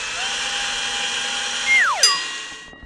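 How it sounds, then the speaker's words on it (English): A power drill bores into the bottom of a door jamb while a door seal is installed, a steady high whine running throughout, then a sharp falling pitch sweep and a brief bright ring as the bit slows and releases. "we get our drill with our drill bit. We line up our marked hole for the cam and drill into the bottom part of the jamb."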